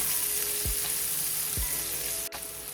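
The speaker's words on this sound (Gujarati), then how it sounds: "ક્રશ કરેલી ડુંગળી એડ કરીશું। સારી રીતે ડુંગળીને સાંતળી લઈશું।" Crushed onion sautés in oil for Kathiyawadi dhokli curry, putting out a dense, loud sizzle with two low thuds from the pan or spoon and a short click near the end, no talking.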